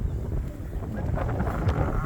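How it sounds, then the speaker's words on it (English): Gusty wind buffeting a microphone outdoors at a sheep farm during lambing season, a rough low rumble that swells and dips throughout with no clear talk. "Oh, golly, it's windy out."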